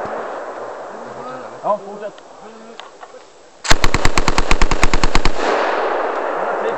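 Scattered low sounds give way to a sharp, rapid burst of automatic gunfire lasting under two seconds, close and loud, with a brief spoken remark earlier.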